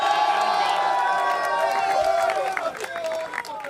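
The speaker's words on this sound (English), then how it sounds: "can we get one more round of applause for your TI champs?" A large esports arena crowd at the Dota 2 International 2017 grand final cheers and whoops with sustained applause, loud and dense throughout, with excited voices rising above the clapping.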